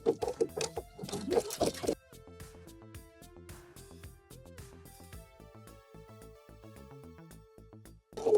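A home sewing machine edge-stitches a thick denim pocket on wide-leg pants, running in a steady mechanical patter for several seconds after brief handling noises, with a short burst of handling at the end.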